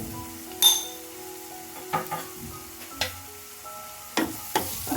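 Spices such as turmeric and cumin powder frying in a pan for a ragi dish, a steady soft sizzle broken by several sharp clinks and scrapes of a utensil against the pan.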